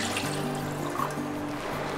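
One cup of water pours into a pan, to be boiled with milk for moong dal halwa: a steady trickling splash lasting about two seconds over a constant low hum.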